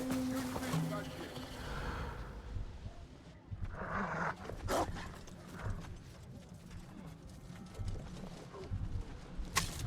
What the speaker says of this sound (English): Oh, the noise the dog made, that wasn't necessary, game